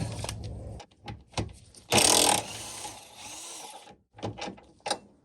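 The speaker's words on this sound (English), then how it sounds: "undo those two rear bolts, then the whole thing will drop off." A ratchet undoes 15mm bolts on a car's front suspension wishbone, giving sharp close clicks and tool knocks with a brief louder mechanical burst in the middle, all in a quiet workshop.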